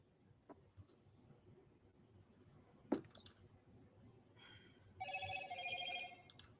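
Indoors, a few soft scattered clicks come first, then a telephone starts ringing with a bright, repeating electronic ring near the end.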